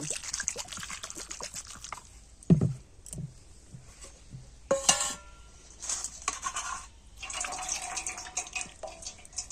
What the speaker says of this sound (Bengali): এটা যাতে ওভার কুকিং না হয় মানে বেশি সিদ্ধ না হয়ে যায় তার জন্য এর উপর দিয়ে একটুখানি জল আমি দিয়ে দেব